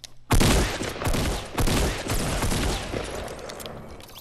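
Rapid bursts of gunfire in a Fortnite Battle Royale match, loud and close, coming in several clustered volleys that fade slightly toward the end.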